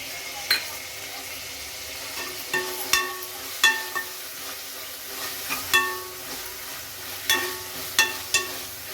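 Mint and coriander leaves frying in hot ghee in a pan for ghee rice, a soft steady sizzle broken by sharp crackles and utensil clinks at irregular intervals.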